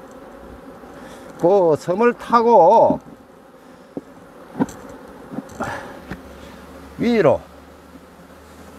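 Honey bees buzz steadily around an open beehive during beekeeping work, a soft, close drone running beneath someone speaking Korean.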